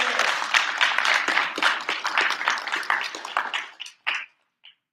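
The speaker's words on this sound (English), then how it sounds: "Give him a round of applause, everybody." Live crowd at a JoeFest 2024 convention applauds a guest, dense close clapping that swells and holds for about four seconds, then breaks off into a few scattered final claps and near silence.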